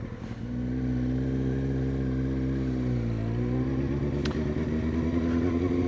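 A motorcycle engine holds a steady, close drone at low speed during a slow-control right turn, with the throttle gently applied and a slight dip and rise in pitch, with no voices.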